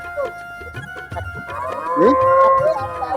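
A cow lows once at a cattle market, a rising then falling bellow over busy market noise, with faint voices, animal calls and clatter around it.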